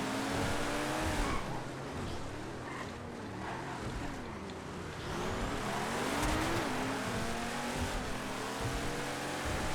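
Drag cars racing in GTA FiveM, with engines revving and whining through rising and falling gear sweeps over steady wind and road roar, loud and continuous for several seconds with no talking.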